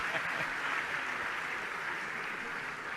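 An audience claps together in a steady, dense burst of applause at a spiritual discourse gathering, sustained and fairly even for the whole stretch with no voices on top.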